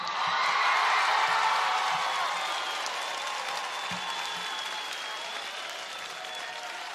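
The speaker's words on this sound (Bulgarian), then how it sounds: "затова вашите аплодисменти за Роксана!" Awards show audience at a Bulgarian TV music ceremony applauds loudly for Roxana, a thick wash of clapping with a few cheers that gradually eases off over several seconds.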